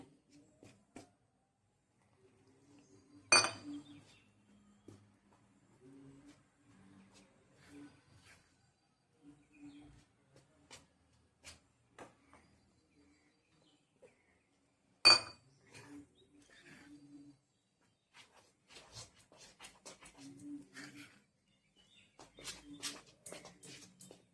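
Potato vada batter with a little rice flour is mixed by hand in a bowl. The quiet, soft scraping is broken by two sharp clinks, with a cluster of light taps near the end.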